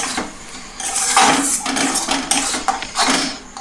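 A spoon scraping and clattering in a pan while turmeric is stirred into frying Bombay duck fish, with several sharp metallic knocks and scrapes close by, no talk.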